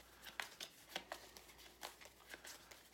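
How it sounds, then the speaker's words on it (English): A deck of game cards being shuffled for a board game, giving a run of quick, crisp riffling flutters at a moderate, close distance with no talking. "shuffle the Steps of Yoth into those 4 random ones, leaving us an exploration deck of 5 cards"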